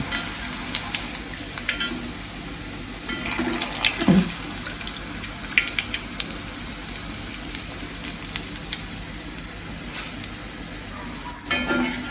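Garlic frying in hot oil and being scooped out: a low, continuous sizzle broken by scattered scraping clicks and clatters of a spoon, close by and fairly quiet.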